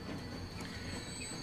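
A train in the video game Transport Fever rolls along with a continuous low rumble and a faint high whine, steady and unbroken throughout.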